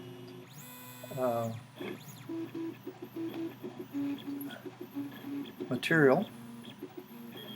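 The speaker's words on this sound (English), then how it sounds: "now I am ready to press the knob and resume printing" A 3D printer resumes a two-color print: stepper motors give a rising whine, then a steady run of short, rhythmic tonal pulses and another sharp sweep, close and moderately loud, with someone talking briefly over it.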